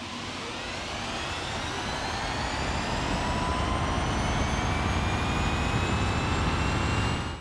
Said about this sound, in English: let's go ahead and take a listen to the whopping zero engine, because this thing's electric